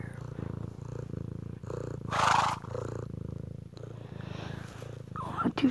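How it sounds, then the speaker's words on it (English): A pet cat purrs close up with a steady rumbling rhythm, joined by a short burst of louder noise midway and faint sounds near the end. "See, hear his purr."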